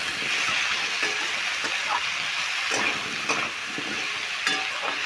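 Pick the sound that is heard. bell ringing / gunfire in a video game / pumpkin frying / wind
pumpkin frying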